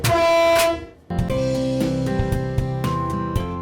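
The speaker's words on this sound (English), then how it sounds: "we sound our horn to let them know we're coming" A loud freight train horn blasts for about a second, then a second sustained, chord-like horn sounds steadily, close and powerful.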